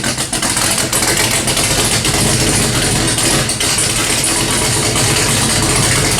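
Hot rod V8 with Pipe Violator exhaust and long tube headers idles loudly and steadily up close, a dense continuous rumble with a slightly lumpy pulse and no talking.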